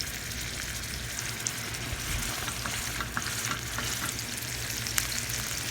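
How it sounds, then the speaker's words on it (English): Beef sears in hot oil in a pan for a beef wellington, giving a steady, close, loud sizzle and crackle throughout with a few small pops and no talking. "Alright, so I have the meat searing on all sides"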